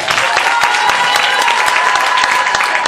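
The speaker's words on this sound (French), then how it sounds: "On l'applaudit encore bien fort une fois." An audience at a cosplay contest during a convention claps loudly and steadily, a close, dense burst of applause that holds at full strength throughout.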